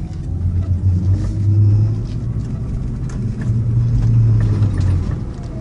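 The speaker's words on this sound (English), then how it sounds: "There's nothing but the whir of the engines." A Be-1 plug-in hybrid car drives on electric motors alone, giving a steady, close motor whir with a low hum that rises and falls in pitch twice. No talking is heard.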